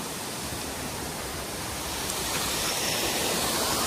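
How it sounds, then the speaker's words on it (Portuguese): Steady rushing water, a constant broadband roar like a small waterfall nearby, slightly louder toward the end, with no voices. "E aqui é uma cachoeirinha."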